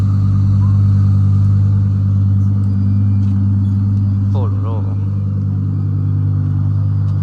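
A V10 car engine at the Zoute Grand Prix 2025 throbs loud and close with a deep, steady rumble, and a voice briefly exclaims over it.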